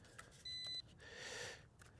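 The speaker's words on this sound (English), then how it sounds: "And we got a beep." A short electronic calibration beep from an ATTOP W80 Wolvy Pro GPS camera drone sounds once, clear but faint against quiet room background.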